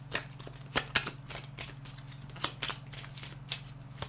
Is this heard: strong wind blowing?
no